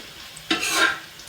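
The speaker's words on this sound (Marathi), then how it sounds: "मिरची फ्राय होत आहे." Chilies hit hot oil in a pan on a gas stove with a sudden loud sizzle that rises and fades within about half a second, heard up close with no talking.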